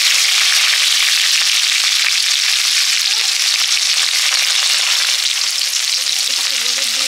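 Chopped onion hissing and sizzling steadily in hot oil with bay leaf, whole garam masala and dried chillies, a loud continuous fry with faint stirring scrapes near the end.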